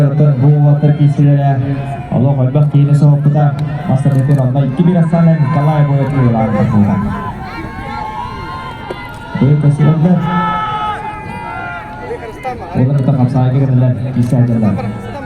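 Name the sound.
crowd chanting and cheering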